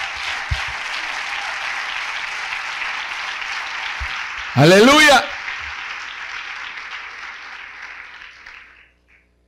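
Church congregation applauding in praise during a sermon, a steady wash of clapping that fills most of the clip and fades out near the end, with a brief loud shout of a word partway through.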